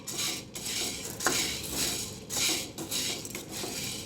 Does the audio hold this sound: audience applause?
no